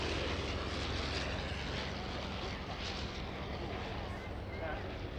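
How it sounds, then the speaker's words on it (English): A Fokker D.VII biplane flies at an airshow, its piston engine a steady, fairly distant droning rumble that holds even throughout, with no talk over it. "So flying the D.VII is Stuart Goldsby, one of our home pilots."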